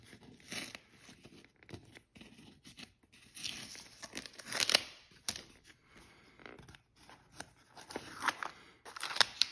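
Plastic or paper packaging around a Golden Age comic book, All Star Comics #35, is peeled and torn open close up, giving irregular crinkling and ripping bursts with pauses between them.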